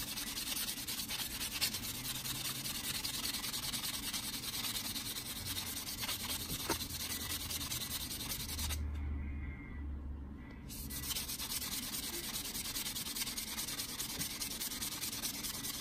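Continuous abrasive rubbing of fine sandpaper against a ring made from a silver quarter coin, steady and close, with a brief pause partway through.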